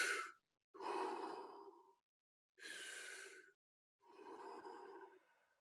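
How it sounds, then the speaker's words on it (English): Four deep, forceful breaths in a row, inhale and exhale alternating with short silent gaps, part of an over-oxygenating breathing technique; close and full, with no talking. "you make deep breaths"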